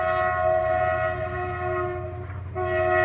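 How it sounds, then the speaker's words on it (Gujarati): A train passes on a railway line that runs toward Rajasthan, its horn sounding a loud sustained tone over the rumble of the rail cars, briefly dipping and then returning. "જો આ રેલવે જાય,"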